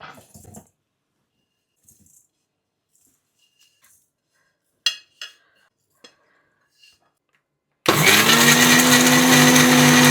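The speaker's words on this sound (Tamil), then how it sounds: "இனி இந்த மசாலையை இதில் போட்டு அரைக்கணும் தேங்காய் மசாலையை" A mixer grinder grinding coconut masala paste for fish kulambu starts abruptly near the end as a loud, steady whirring roar, following quiet clicks and clatters of the jar and lid being set in place.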